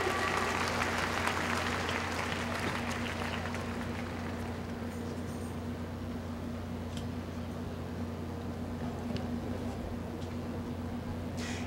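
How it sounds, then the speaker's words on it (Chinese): A university graduation ceremony audience applauds award-winning students, a broad wash of clapping that is strongest at first and then thins to a softer, steady patter, heard at a distance in a large hall. "请同学再给一次热烈的掌声给得奖的同学，"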